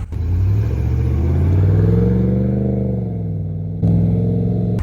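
A 2020 Ram 1500 pickup truck engine revs up loudly and steadily, pitch climbing and holding through the middle before easing off, then a second rev surges near the end with no voices.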